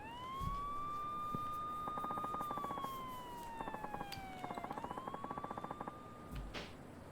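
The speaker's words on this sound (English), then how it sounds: "And then sirens." Police sirens wail in a video game set in Nagoya, a rising and falling electronic tone with rapid yelping bursts, fairly loud and steady throughout with no speech.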